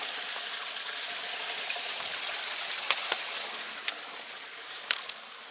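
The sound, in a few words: small creek flowing on a hiking trail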